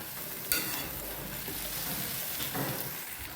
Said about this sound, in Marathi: इथं आपल्याला भुर्जी फिरवून घ्यायची आहे